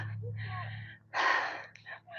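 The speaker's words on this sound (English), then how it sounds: "You got me yawning." A person's long, breathy yawn rising to a loud open-mouthed peak in the middle, with softer voiced breathing before and after and a low steady hum underneath.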